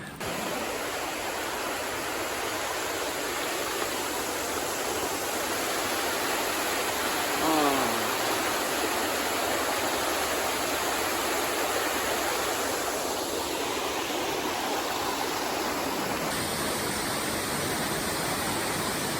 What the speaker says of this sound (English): the sound of water behind you in a gushing brook could be so refreshing